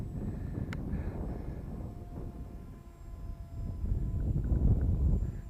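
Strong wind buffets the microphone during an FPV drone flight, a steady low roar that swells and gusts louder toward the end, with no speech.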